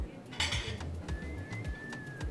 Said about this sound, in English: I'll do the dishes